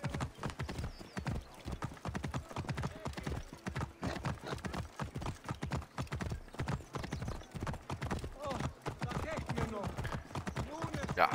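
Hooves of a horse galloping in the video game Assassin's Creed Origins, a fast, continuous clip-clop rhythm of close, sharp hoofbeats with an occasional whinny, heard alone throughout.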